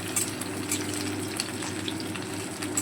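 Vegetables sizzle steadily in a pan for a cauliflower-stalk chorchori, a continuous close frying hiss with faint crackles and no talking.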